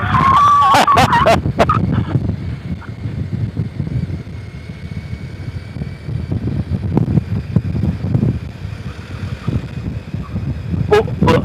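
A car horn honks in several short, loud toots near the start, then a few more later, heard outdoors beside a summit car park over the wind and engine rumble of a motorbike ride.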